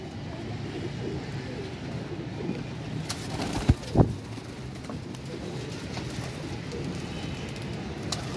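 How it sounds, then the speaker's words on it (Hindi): Pigeons coo softly amid a busy background murmur, with a few brief louder calls and wing rustles near the middle. "ये भी दोस्तों टैडी कबूतर"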